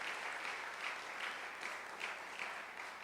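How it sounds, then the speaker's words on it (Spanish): A church congregation claps loudly and steadily, a dense sustained roar of many hands with slight swells, no voices on top. "Fuerte el aplauso."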